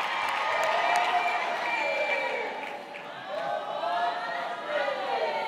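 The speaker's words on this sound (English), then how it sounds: "A round of applause for graduate." Sustained applause from a crowd at a university spring graduation ceremony in Bloemfontein, a steady dense clatter of clapping that holds for several seconds with a brief dip midway, mixed with some cheering.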